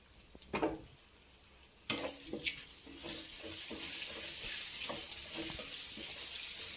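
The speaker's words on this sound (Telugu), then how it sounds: "ఉల్లిపాయలు వేగినాయండి" Onions for a ridge gourd masala curry fry in a pan. A few utensil clatters open, then a steady hissing sizzle builds and settles in loud and close.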